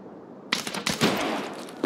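Gunfire in the shooter game Escape from Tarkov: after half a second of quiet, a rapid burst of loud, close shots breaks out, followed by sustained crackling fire that carries on to the end.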